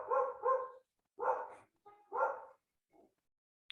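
A dog barks several times, a quick pair followed by two more and a faint yip, heard from a short distance.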